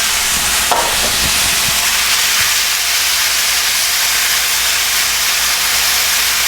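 An onion mixture cooks in a hot pan over a flame turned all the way down, with a steady, close sizzling hiss and a few soft clinks near the start.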